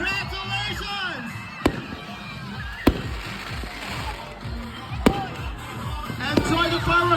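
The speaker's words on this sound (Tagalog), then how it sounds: "Enjoy the fireworks display." Fireworks burst at an island fiesta, sharp bangs going off every second or so over a steady crowd murmur and rumbling background, with popping cracks scattered between the louder reports.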